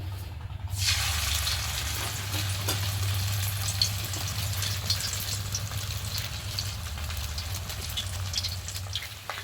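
Maggi noodles sizzle loudly and continuously in hot oil in a kadai after a brief quiet start, crackling close by with a low steady hum beneath, no talking.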